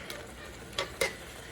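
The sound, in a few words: marinara with sausage simmering in crockpot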